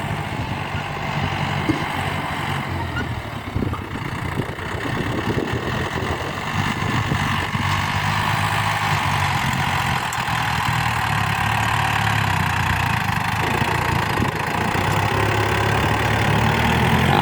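A Yanmar YM357A tractor's four-cylinder direct-injection turbo diesel, about 57 horsepower and 3,000 cc, idles with a steady, loud low rumble and a constant mechanical hum, heard close and unbroken with no voices.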